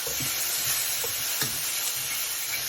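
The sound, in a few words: stir-frying pre-fried tofu in a pan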